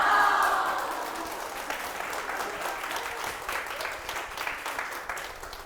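An audience at a televised Korean lecture applauds, a burst of dense clapping that starts loud and settles into a steady patter for several seconds.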